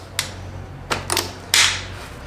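Locking clip on a 2023 folding electric bike from 5th Wheel snapping open and the frame folding, a handful of sharp metallic clicks and clacks ending in a brighter rattling clunk, close and isolated.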